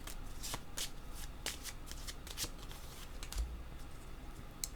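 Oracle cards are shuffled by hand, a quick series of crisp riffling flutters in close, fairly quiet, over faint background hiss.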